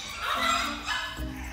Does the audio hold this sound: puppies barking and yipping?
yes